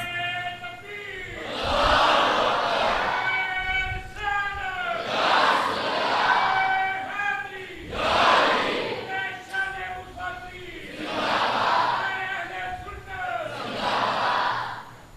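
Large religious gathering crowd roaring a fervent response to a preacher's slogan, five loud surging waves of massed shouting, one after another at a steady rhythm.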